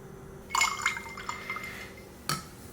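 Heavy cream is poured into a cocktail shaker, making a short, soft liquid pour followed by a faint glassy clink near the end. The sound is quiet and close with no voices.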